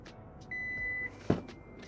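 A single steady electronic beep from a Suzuki Across trunk lid holds for about half a second as the lid locks at a set height, then a short knock follows, with faint background hum.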